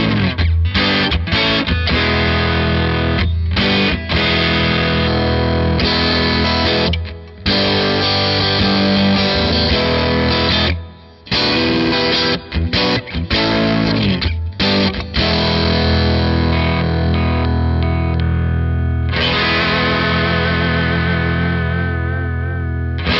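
Distorted electric guitar through a high-gain Marshall amp and attenuator with an Electro-Harmonix Holy Grail Neo reverb pedal, playing loud sustained rhythm chords with brief gaps where the reverb tails ring out.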